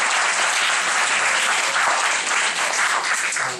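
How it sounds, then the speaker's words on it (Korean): Steady, dense applause from a church congregation during a service, sustained throughout at an even loudness, with no pauses or talking over it. "박수 한번 쳐줍시다."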